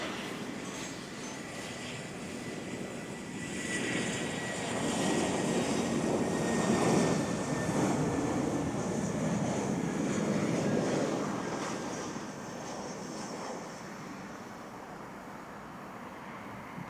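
An Air Canada Boeing 777 from Munich arriving at snowy Toronto Pearson airport, its jet engines a steady distant roar that swells in the middle and fades again, with no talk.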